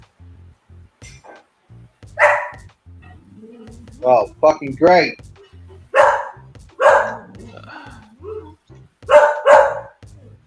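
A pet dog barks in repeated short bursts, several sharp barks spaced a second or so apart, close by, over a low electronic hum, with a man briefly cursing in between.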